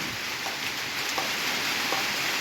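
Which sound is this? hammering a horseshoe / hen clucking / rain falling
rain falling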